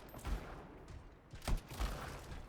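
Gunfire from the video game Anthem comes in a few loud, broadband bursts with deep thumps, separated by short gaps over a steady game background.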